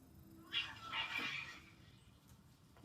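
Cats fighting over territory let out a drawn, wavering yowl that swells and fades, fairly faint and heard at some distance, with a low background hum and no talk.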